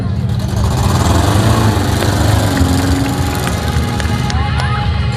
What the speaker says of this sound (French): Vous entendez le bruit de nos moteurs?